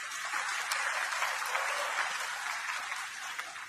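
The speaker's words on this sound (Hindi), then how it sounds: "तो जोरदार ताली बजाओ।" Loud, dense clapping from a large audience at a community awards ceremony, sustained evenly throughout with no voices over it.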